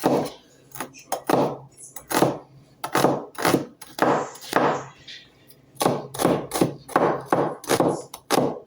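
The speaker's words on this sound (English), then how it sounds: "Slice the onion." A knife chops an onion on a wooden cutting board in a rapid series of sharp, close strokes, grouped into bursts with brief pauses between them, with no talking.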